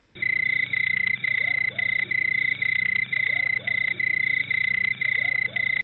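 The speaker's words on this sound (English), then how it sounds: "We'll put some crickets in there." Steady insect-like chirping repeats in a regular pulsing rhythm throughout, a continuous cricket chorus with a high trilling tone, fairly loud and with no talking over it.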